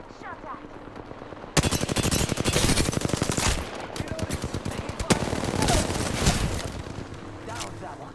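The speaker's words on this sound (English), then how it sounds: "Listen up, I'm getting shot at." Rapid bursts of automatic gunfire in a video game crackle loudly and continuously, dense stuttering shots with a few heavier bangs, then tapering off.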